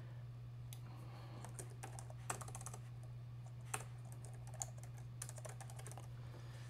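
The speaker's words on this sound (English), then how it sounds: "if I could type a little bit better, this would go much faster" Steady clicking of someone typing on a computer keyboard while naming variables in Python code, irregular bursts of keystrokes with a few sharper taps, fairly faint over a constant low electrical hum.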